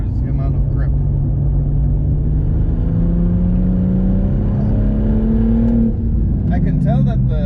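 A 500hp BMW M135i pulls hard on a race track, its engine note rising steadily through the gear before easing, loud and close inside the cabin while a driver talks over it.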